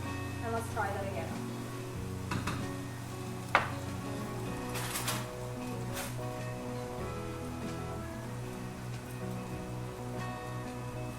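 Mushrooms fry in a pan with a steady sizzle and crackle, broken by occasional scrapes and clinks as they are stirred, while a voice talks over the cooking.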